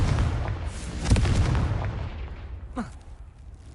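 A Confringo fire spell bursts in Hogwarts Legacy with a loud, deep booming explosion, followed by a rumbling tail that fades over a few seconds, with a brief whooshing sweep near the end and no talk.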